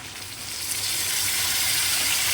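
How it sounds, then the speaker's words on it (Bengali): Potatoes fry in a pan with a spice paste of turmeric, chopped green chilli and ginger, giving a steady close sizzle that swells and hisses with no voices over it. "এই মশলাটা দিয়ে আমি আলুটাকে কষাবো"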